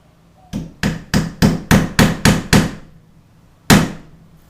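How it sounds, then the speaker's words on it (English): Hammer driving a nail into wood, eight sharp evenly spaced strikes in quick succession, then a pause and one final blow, close and loud with no talking. "We're going to do it with my hammer."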